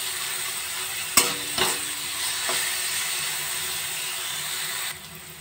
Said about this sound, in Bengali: গাজর, বিনস, ক্যাপসিকামগুলো ভালো করে ভেজে নেব।